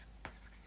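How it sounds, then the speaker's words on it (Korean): A stylus strokes across an iPad fitted with a paper-texture screen film, giving one brief, faint scratch in a quiet room. "아이패드에 종이질감 필름 붙여놓은 것 같은 소리다."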